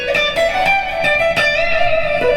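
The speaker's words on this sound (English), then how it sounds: "This is the sound of the Strat through my rig." A Fender Stratocaster electric guitar played through a Marshall MG100 amp rings out loud and close, with a run of picked notes that sustain and blend into one another, and no voices.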